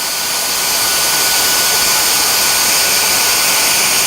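Cordless Dyson Digital Slim stick vacuum running on max mode, a loud steady high-pitched whine with a broad rushing airflow that climbs slightly at the start and then holds constant.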